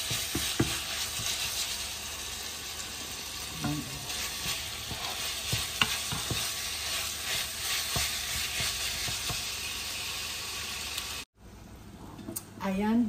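Ground beef bulgogi sizzles steadily in a pan, close and continuous, with scattered scraping and clicking as the meat is stirred, and a brief quieter gap near the end.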